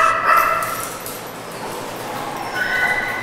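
Dogs bark at an animal control shelter, a few sharp, close barks and yips echoing in the kennel space with shifting noisy background.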